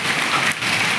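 Heavy rain mixed with hail in Ganjam district, Odisha, pours down as a loud, dense, continuous hiss of drops beating on surfaces, close and unbroken apart from a brief dip.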